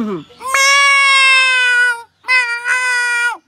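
A man imitates a cat's meow with his voice, two long, loud, tonal wails close to the mic with a short break between them, and no other sound around them.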